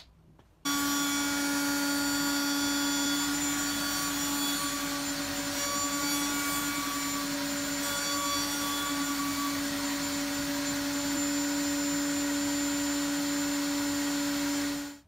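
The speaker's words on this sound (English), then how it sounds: "I adjusted the height of the cutter to enlarge the grooves to 6 millimeters with a second pass." A woodworking cutter enlarging grooves to 6 millimeters in wood on a second pass, a loud steady machine whine with a strong tonal hum running continuously near the microphone, starting abruptly and stopping at the end.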